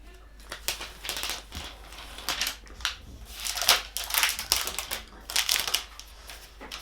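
Protective plastic film being peeled off the back of a new iPad Pro, heard as a series of crinkly, tearing rustles in short bursts, fairly close, with no talking.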